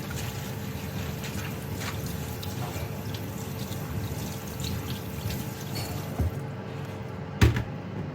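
Running tap water splashes steadily while a crate is washed in a home kitchen, a continuous close gush with a few clunks of the crate near the end and no talk.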